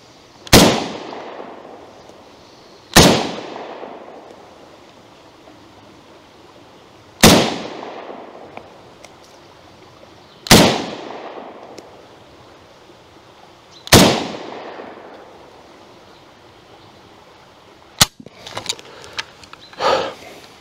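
An automatic rifle fires single shots at a target 35 meters away outdoors. Five loud, sharp cracks come a few seconds apart, each with a ringing echo, followed by fainter clicks and handling noises.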